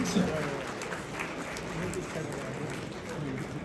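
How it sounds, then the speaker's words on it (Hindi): Hall audience applauding at a film festival honouring guests, a broad steady wash of clapping from a large crowd that holds at an even level throughout, with some voices mixed in. "तालियां बड़े जोर से बजे तो और भी अच्छा रहे"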